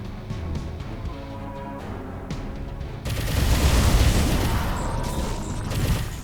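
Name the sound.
reflex cannon firing in the video game Overload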